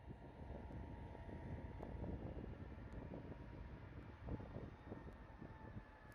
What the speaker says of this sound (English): Listen to those vintage F40s roar.